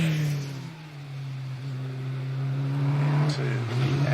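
A 1600cc Brabham BT21 race car climbs the Prescott hillclimb course, its engine note steady and loud, slowly rising in pitch, with a brief gear-change dip near the end and a commentator talking over it.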